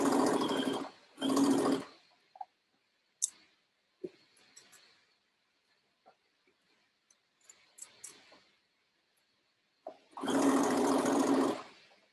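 A sewing machine stitches the neckline of a lined dress in short loud bursts: two quick runs at the start and a longer run near the end, with quiet handling noises between.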